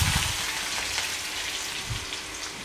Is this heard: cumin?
yes